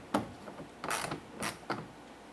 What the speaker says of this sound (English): what we want to do is come back with our ratchet, and we just want to make sure that those are snug but not over tightened